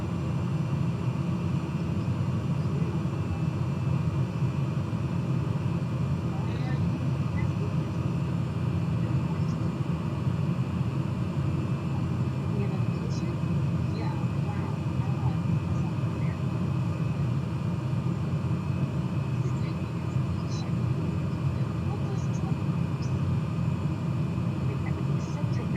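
Aircraft descending for landing with flaps down, heard from inside as a constant, broad engine drone and rumble that stays even and loud throughout, with a voice talking faintly underneath.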